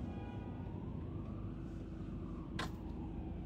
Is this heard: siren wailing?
yes